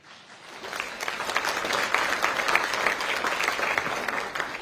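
Audience applause at a political event, a dense, steady wash of clapping that swells in and holds throughout, with faint crowd murmur underneath.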